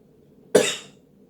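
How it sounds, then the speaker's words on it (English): A single sharp cough, close and clear, during a medical examination, fading quickly into quiet. "can you cough for me?"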